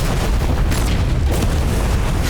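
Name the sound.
explosion in a film scene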